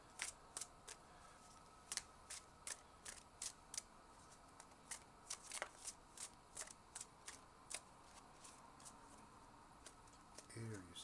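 Tarot cards are shuffled by hand in a steady run of crisp riffling snaps, about a dozen sharp bursts spread across the stretch, close and clear with a quiet room behind.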